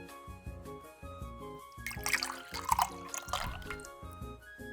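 A cup of water poured out, a short trickling, splashing pour with scattered drips, heard faintly over steady background music.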